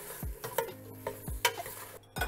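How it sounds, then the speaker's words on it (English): A lemon-juice dish simmering in a pan is tossed and stirred, giving several quick scraping, clattering stirs at a steady rhythm over a soft background sizzle, close and fairly quiet, with no talking. "now we're just gonna let these cook and simmer. I'm gonna give it a little toss"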